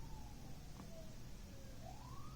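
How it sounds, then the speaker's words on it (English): Emergency sirens outside, heard faintly from a distance as a thin wailing tone that rises and falls over a low background rumble, with no talking. "you guys hear the sirens?"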